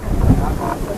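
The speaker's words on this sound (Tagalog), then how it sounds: "ang lakas ng hangin" Gusty wind buffets the microphone at an outdoor rest stop in Tagaytay City, a low, blustery rumble that lasts throughout, with a voice speaking over part of it.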